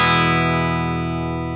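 Guitar played through the STL Tonality amp plugin on its high input, a single sustained, lightly driven chord ringing out loud and slowly decaying, with no talking.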